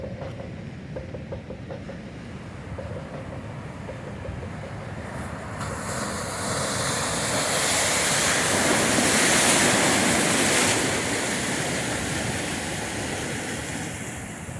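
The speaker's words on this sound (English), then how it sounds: "What a pretty beach." Pacific surf breaks on a California beach, a steady wash of waves that swells louder midway and then eases, with some wind across the microphone.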